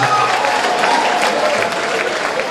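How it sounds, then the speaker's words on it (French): A large crowd at the Smarty Kunde d'OR 2023 awards ceremony gives loud, continuous applause as a guest is welcomed on stage, a dense steady wash of clapping throughout. "J'aimerais qu'on applaudisse très fort le grand frère Salfo que j'aimerais inviter ici sur scène"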